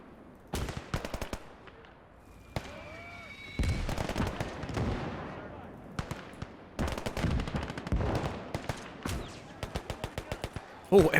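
M3 grease gun fires in a World War II Battle of the Bulge battle in the Gates of Hell game, loud clattering bursts of automatic fire mixed with single shots and distant gunfire, alternating with brief quieter gaps.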